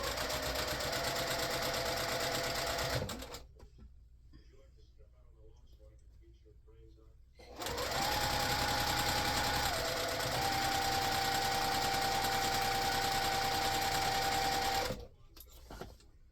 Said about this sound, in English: So now I can sew the rows together.